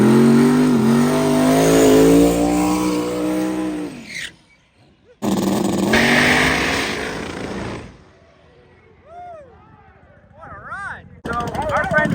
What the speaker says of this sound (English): So our friend here has got a 76mm turbo, so he's in the outlaw class, but he's ready to lay it down.